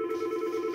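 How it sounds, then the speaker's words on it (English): Steady electronic telephone tones from an incoming call ring out clearly and continuously near an electronics workbench during external hard drive microsoldering. "All right, stand by for this phone call."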